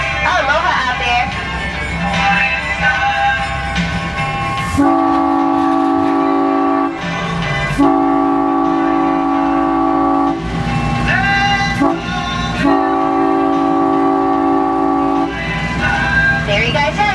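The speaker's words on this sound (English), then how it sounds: "So make sure you listen for those train horns" A Hawaiian Railway locomotive sounds its horn for a grade crossing, with loud sustained blasts in a long-long-short-long pattern over rumbling, clacking wheels, while voices talk faintly between blasts.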